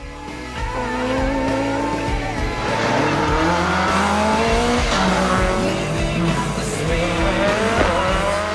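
Rally cars race along a closed road stage in a Northern Ireland championship round, an engine roaring loud and close as it revs and shifts, tires squealing through the run, with no talk.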